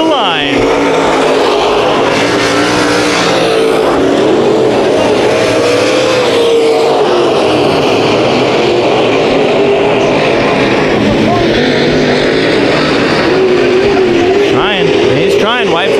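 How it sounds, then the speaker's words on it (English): Race cars roaring around an oval track while battling for the lead, a continuous loud engine drone with rising and falling pitch as the pack passes, under excited announcer commentary. "he is there to the inside of Holder, battling for the lead, lap number 5"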